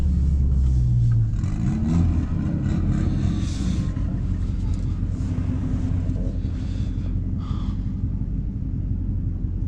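Low, steady engine rumble at a drag strip near a Honda Civic, with a rising rev early on and wind buffeting the microphone throughout; no distinct race pass stands out.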